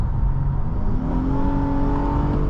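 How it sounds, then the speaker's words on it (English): A 2019 Acura MDX crossover accelerates from inside the cabin on a rainy drive, its engine note rising steadily in pitch toward the VTEC crossover with a smooth, loud, continuous drone and no talk. "You can hear how loud the VTEC crossover noise is in this MDX."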